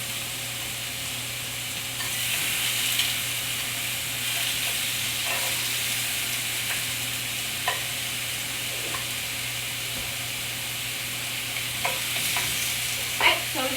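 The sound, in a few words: oxtails searing in a pot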